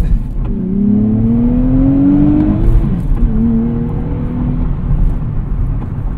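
A 2024 Nissan Z with a six-speed manual pulls hard from a standstill, the engine note climbing steeply through a gear, dropping at the shift, then rising again, heard loud from inside the car.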